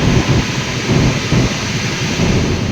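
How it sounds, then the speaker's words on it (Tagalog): Strong typhoon wind roars continuously on Tinian Island as Typhoon Sinlaku arrives, a loud, steady, gusting rush with low rumbling underneath and rain-like hiss throughout. "dito na lumakas ang hangin."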